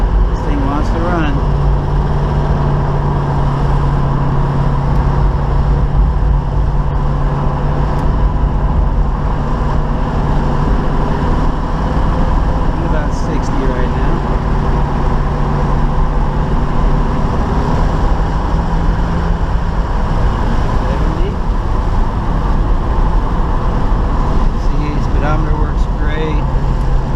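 A 1972 Chevy Nova engine runs steadily just after a cold startup, a loud continuous rumble with slight rises in revs throughout, as someone talks over it.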